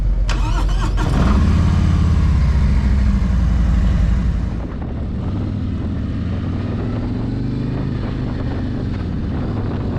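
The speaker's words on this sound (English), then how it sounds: "Now for the Road Glide. Let's take it out for a ride." A Harley-Davidson Road Glide motorcycle engine rumbles continuously, with a sharp burst of revving at the start that settles into a steady, loud low drone as the bike rides along.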